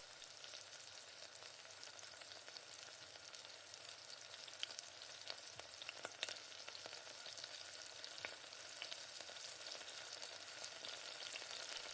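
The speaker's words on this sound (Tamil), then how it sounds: "கடுகு உளுத்தம் பருப்பு சேர்த்துட்டு நல்லா கடுகு உளுத்தம் பருப்பு பொரிஞ்சு வரட்டும்." Mustard seeds and urad dal sputter in hot oil for a South Indian chickpea kara kuzhambu tempering, a dense, steady crackling sizzle with scattered sharp pops, close up and fairly even throughout with no voices.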